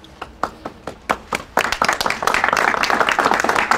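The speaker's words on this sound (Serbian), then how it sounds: "Ovo je aplauz i za Beograđane," Scattered claps from an audience at an opposition rally in Belgrade swell into loud, sustained applause from a large crowd, continuing steadily to the end.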